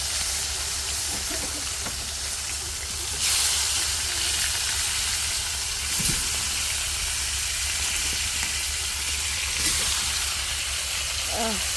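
Curry with turmeric, chili and onion sautés in a pan, hissing and sizzling steadily up close, with a voice talking now and then over the cooking.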